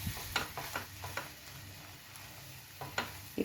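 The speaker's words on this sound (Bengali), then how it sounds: "দিয়ে এবার এটাকে ভালো করে কষাবো।" Prawn curry masala is sautéed in a pan, with a soft sizzle under light scraping and stirring taps, close but quiet, and no voices.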